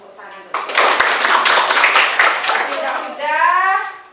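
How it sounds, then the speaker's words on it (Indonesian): A classroom of children claps hands together in a dense burst of rapid, overlapping claps lasting a few seconds, close and loud, with a teacher's voice speaking before and after. "Ya, tepuk tangan."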